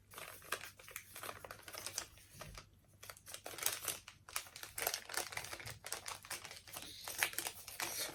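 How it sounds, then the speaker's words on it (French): A Sagapo Scrap packet being opened by hand: soft, close crinkling and rustling of the wrapper in irregular bursts with small tearing and handling noises, quiet throughout. "on va ouvrir la pochette de Sagapo Scrap qui est là"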